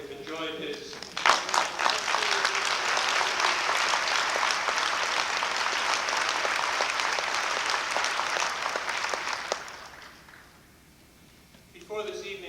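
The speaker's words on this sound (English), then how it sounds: "how about another round of applause for Mr. Kelly?" An audience at a hall of fame awards evening claps for Mr. Kelly in a sustained, dense round of applause lasting about nine seconds, then fading out before a voice begins speaking.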